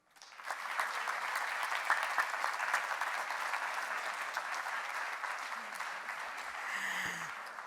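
A room full of people applauds after a panel discussion at a college conference, steady sustained clapping that swells quickly and carries on evenly with faint background murmur.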